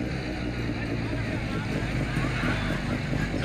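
Hako rotary tiller engines roar as teams race through an obstacle course on a farm field, a loud, continuous, rough drone with wind buffeting the microphone and a voice talking over it.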